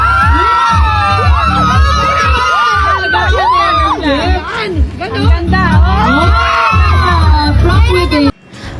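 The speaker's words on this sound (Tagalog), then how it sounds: "Hiyawan naman ang mga tao sa paligid pagkatapos gawin ni Andrea ang paghawi sa kanyang buhok" Crowd cheering, whooping and shouting at a Head & Shoulders promotional event as a celebrity walks past, loud and continuous with excited voices and chatter throughout, cutting off abruptly near the end.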